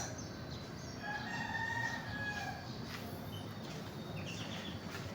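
A white Kelso rooster crows at a steady distance over constant outdoor farmyard background noise, with a few faint clucks and chick peeps mixed in and no talking.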